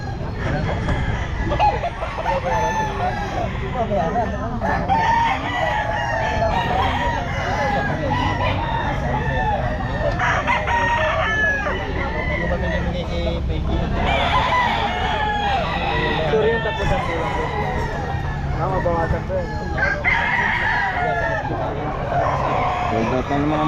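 Roosters crow repeatedly amid clucking fowl at a busy pet market, overlapping calls rising above constant crowd noise and nearby talking.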